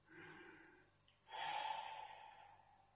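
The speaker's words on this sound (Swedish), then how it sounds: "Det är att du andas in genom näsan." A slow, deliberate breath drawn in through the nose during a calming sleep-relaxation exercise, soft and close, followed by a louder, longer airy breath after a brief pause.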